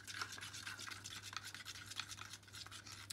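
A small batch of acrylic paint with pigment and glitter is stirred in a cup, giving quiet, rapid scraping and swishing strokes in an even rhythm over a faint low hum.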